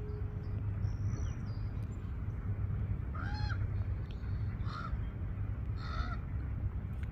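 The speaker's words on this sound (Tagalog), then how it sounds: "maraming klase-klase yung mga ibon dito" Several harsh, cawing bird calls ring out in short bursts at a protected coastal area at low tide in Bodega Bay, California, over a constant low background hum, a few seconds apart.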